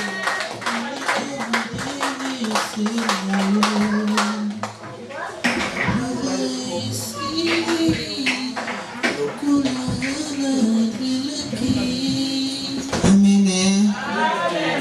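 A church congregation claps during worship, with scattered clapping mixed under loud continuous speech and voices across the whole passage.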